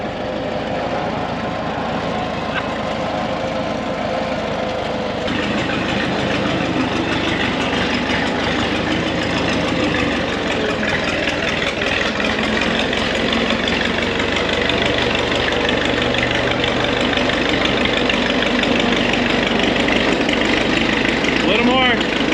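A 1928 Caterpillar motor grader's old engine runs at a steady, rough idle on a ranch after cranking, a loud, close, continuous rumble with voices talking over it.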